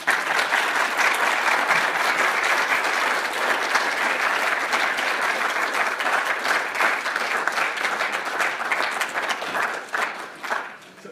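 A lecture audience gives sustained, dense applause, steady and full for about ten seconds before thinning out at the end.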